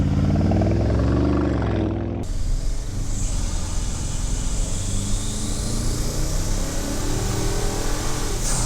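A Porsche Cayenne's engine roars under hard acceleration, loud and continuous from the cabin. The pitch holds a strong, steady drone after a brief shift near the start.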